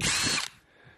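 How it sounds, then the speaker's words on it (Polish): A Parkside Performance PSBSAP 12 A1 cordless drill-driver runs in drilling mode with a loud, steady high whine for about half a second, then spins down to a faint fading hum. "No i mamy tutaj wiercenie."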